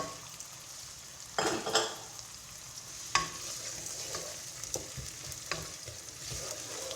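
Carrots sautéed in a pan with tomato paste while cooking barbunya beans make a soft, steady sizzle, broken by a few sharp scrapes and clinks of a spoon stirring against the pan.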